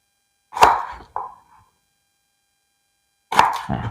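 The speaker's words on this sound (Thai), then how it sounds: "ก็จะหั่นตะไคร้ก่อนเลยนะครับ หั่นเฉียงๆนะครับ" A knife cuts lemongrass diagonally on a board while Thai tom yum with canned fish is prepared, giving a few sharp, close chopping knocks separated by silence.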